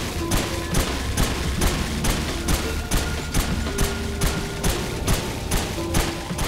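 Rapid muffled shots fire in a steady rhythm, a dense repeating series of suppressed pops from silenced weapons in Resident Evil 4.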